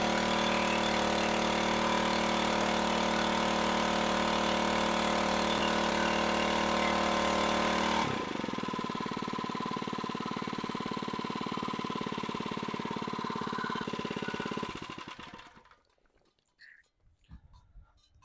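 A Harbor Freight Predator trash pump engine runs loudly at a high, steady rev, then drops to a lower idle and finally cuts out, leaving near silence with a few faint knocks at the end.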